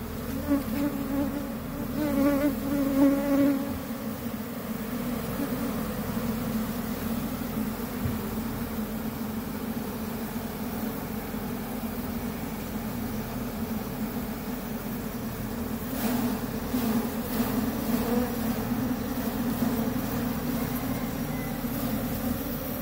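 Honeybees hum in a dense, continuous, loud buzz around a hive that is preparing to swarm and is building drone cells, with no voices over it.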